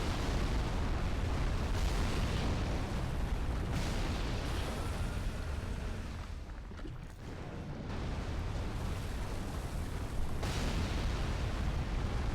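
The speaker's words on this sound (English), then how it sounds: "the ballista will kill the worm because it'll take pot shots at it" In Dark Souls 3, ballista bolts strike a giant worm with a continuous roar of heavy, explosive booms and rumbling that briefly dips midway before surging back, with no talk over it.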